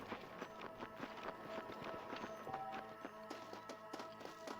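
Horse hooves clop in the Red Dead Redemption video game, a steady patter of multiple hooves over a dense layer of game ambience, moderately loud.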